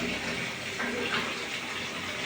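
Water pours steadily from a tap into a bathtub, a continuous hissing splash at moderate volume.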